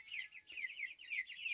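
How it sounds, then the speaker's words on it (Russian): Farm hens cluck in quick, repeated high calls, faint and steady through the short stretch with no talking. "Ну, куры есть куры."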